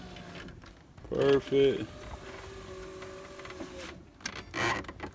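A replacement window regulator motor in a Tahoe runs with a steady electric whirring hum for a few seconds, while someone speaks briefly over it.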